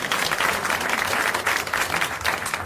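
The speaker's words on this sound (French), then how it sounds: "Vous 500 applaudissez Madame le prieur d'Agon-Coutainville." An audience of around 500 people applauds on a French television game show. The clapping is thick and continuous, with slight swells, for under three seconds.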